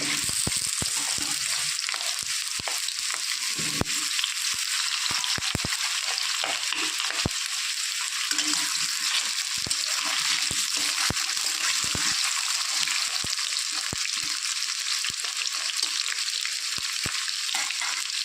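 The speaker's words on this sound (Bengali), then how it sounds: "এদিকে তেল গরম হয়ে গেছে, আলুগুলো লাল লাল করে ভেজে নেব।" Potatoes fry in hot oil for a chicken kosha, giving a loud, continuous close sizzle with scattered crackles and pops throughout. Occasional stirring clatter comes through and no one speaks.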